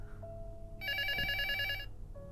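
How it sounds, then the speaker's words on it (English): A loud telephone bell rings in the horror game LUTO, a bright metallic trill holding steady for about a second over a low ambient drone, with no talk over it. "A really loud phone."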